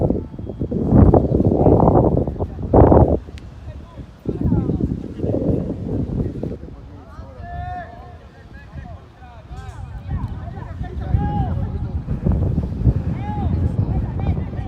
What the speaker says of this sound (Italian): il vento, come dicevo anche prima, soffia in orizzontale